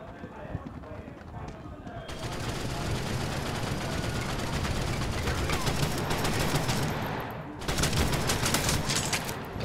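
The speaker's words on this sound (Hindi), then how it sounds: "दोनों तरफ से फायरिंग हो चुका है" Gunfire in the mobile shooter World War Heroes, dense bursts of rapid shots and volleys, with someone talking over the action.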